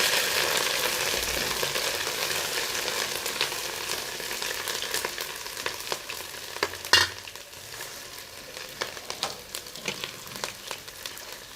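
Onion fried with ginger garlic paste sizzles steadily in hot oil, with scattered stirring clicks and one sharp scrape of the utensil partway through, close and without talk.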